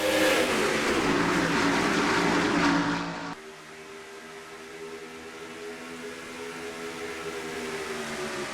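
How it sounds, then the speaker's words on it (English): Race cars roaring around the track at the Chevrolet Patriot Day 500, a loud, sustained engine drone that drops after a few seconds into a steadier, slightly quieter layered whine of several cars passing. "Let's go racing in the Chevrolet Patriot Day 500."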